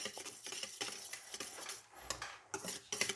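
Quick rhythmic clinking of a whisk against a bowl as egg yolks and whites are beaten together for a fluffy omelette, fast bursts with a brief pause partway through.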